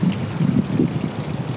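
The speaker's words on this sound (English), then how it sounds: "Anyway, gotta watch these waves." Ocean waves wash at the shore in a steady, fairly loud low rumble and churn, with no talking.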